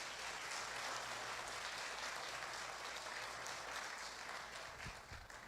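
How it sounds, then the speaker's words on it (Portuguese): Faint, distant applause from a church congregation during a morning service, a steady wash of clapping heard at low volume throughout. "Quem pode aplaudir a pessoa do Senhor Jesus nessa manhã?"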